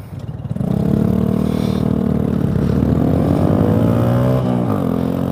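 An air-cooled Harley motorcycle with a Vance and Hines exhaust idles loudly and steadily with a rough, vibrating rumble, the pitch wavering slightly and dipping briefly near the end.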